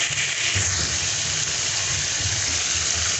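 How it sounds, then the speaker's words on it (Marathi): Water is poured into a pot of soybean vadi rassa curry, giving a close, steady gushing rush that does not change for its short length. "मी आता ह्याच्यामध्ये पाणी टाकून घेते"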